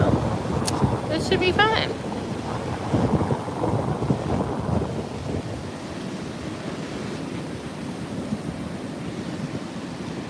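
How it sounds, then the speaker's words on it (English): Strong wind buffeting a microphone on a cloudy, cool beach, a loud continuous rumbling roar with surf beneath, while a person speaks briefly over it at the start. "It's really windy now overall."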